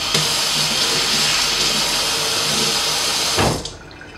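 Pre-washed salad greens rinsed under a running kitchen tap, a steady loud rush of water that cuts off abruptly near the end, leaving a faint trailing hiss.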